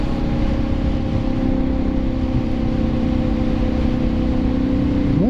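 Kawasaki KLR motorcycle engine running steadily at close range, a continuous low droning idle with a slight rise in pitch near the end as the ride gets underway.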